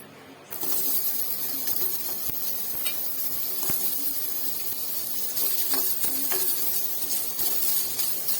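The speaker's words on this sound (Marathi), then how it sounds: "आपण कांदा टाकून घेऊया" Onion and grated coconut dry-roasting in a pan for a masala bitter gourd dish, a steady close sizzling hiss with scattered scraping stirs and faint clicks, no voices.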